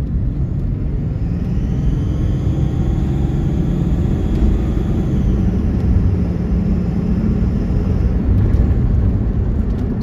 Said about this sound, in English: I'm gonna give it wide open throttle and